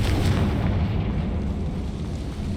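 A Confringo fire-blast spell bursts in Hogwarts Legacy combat, a loud, broad explosive roar that fills the whole moment with rumbling energy, alone without talk.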